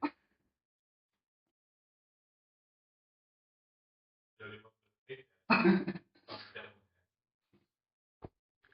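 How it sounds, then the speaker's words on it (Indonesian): A brief burst at the start, then a few short coughs and throat clearing after a long silence, with a faint click near the end. "kayaknya bentar saya batuk dulu"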